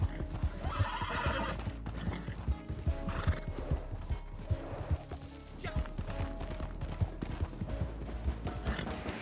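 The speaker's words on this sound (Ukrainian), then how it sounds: "Сідаємо на коня і розпочинаємо." Rapid hoofbeats of a galloping horse in Red Dead pound steadily throughout, with a whinny and some game sound effects layered over the rhythm.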